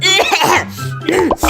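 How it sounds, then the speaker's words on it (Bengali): An adult coughing hard because of a cold and breathing trouble, several loud harsh close coughs in quick bursts that end in a rough, throaty clearing. "আর প্রচন্ড কাশি হচ্ছে।"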